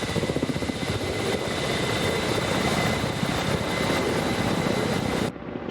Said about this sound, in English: So it's a Russian attack chopper, I think from the early 80s.